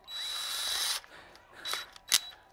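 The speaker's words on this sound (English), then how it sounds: "tight fit angle drill kit. This guy right here is a lifesaver." A compact tight-fit angle drill whirs for about a second, then gives two more short bursts, close up in a garage shop with no talking.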